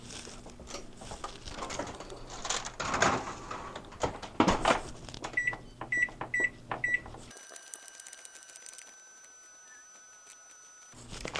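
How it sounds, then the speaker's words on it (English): A cookie sheet of pecan snowball cookies goes into an oven amid clattering knocks and handling, a short run of electronic beeps, then a steady low hum after the door shuts. "So we'll get these in the oven."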